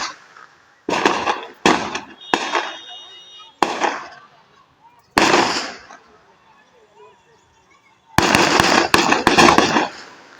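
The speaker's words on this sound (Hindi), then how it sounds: "इसी के बाद सामने आया था ताबड़तोड़ फायरिंग का वीडियो" Rapid gunfire during a gang shooting in Mokama, Bihar, comes in loud, sharp volleys of fast cracks separated by short quiet gaps, ending in a dense burst.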